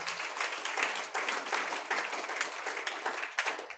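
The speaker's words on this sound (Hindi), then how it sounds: "जोरदार ताली बजाओ परमेश्वर" A congregation at a Friday prayer meeting claps loudly and steadily, a dense, continuous wash of many hands filling the room at close range without a break.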